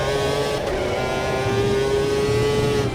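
Engine of a 1995 Formula One race car in the Automobilista 2 racing game, a steady loud high drone with a tire squeal layered over it as the tail slides. No talk is heard.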